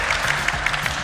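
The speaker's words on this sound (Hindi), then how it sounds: "चलिए सब लोग मिलकर मिस्टर अमन के लिए तालियां बजाइए।" An audience claps for a contestant at a studio stunt event, a brief steady patter of applause that is moderately loud and has no talking over it.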